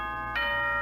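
A Monokuma announcement chime from Danganronpa rings out once, a bright doorbell-like ding that enters partway through over a sustained electronic tone.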